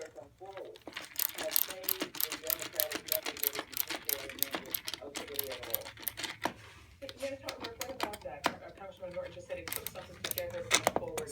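Clamp ratcheting tight during concrete form assembly, rapid clicking and ratcheting bursts repeating close by, mixed with voices talking throughout.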